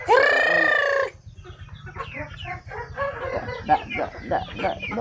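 A loud rooster crow opens, followed by a run of nearby hens clucking in short, uneven bursts.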